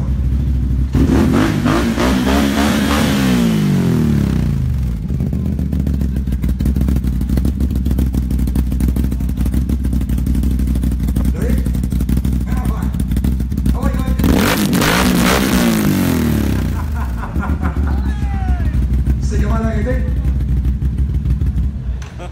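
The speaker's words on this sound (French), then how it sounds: "j'adore le bruit du système d'exhaust" Mudrunner off-road vehicle at the 2017 Quebec show, its engine revved hard through the exhaust in two long surging bursts over a steady loud idle, with people talking nearby.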